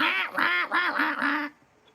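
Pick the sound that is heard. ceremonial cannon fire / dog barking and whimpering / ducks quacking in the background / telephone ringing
ducks quacking in the background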